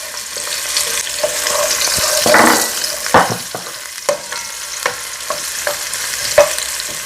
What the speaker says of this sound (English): I'm going to add the onions. And this is chopped onion.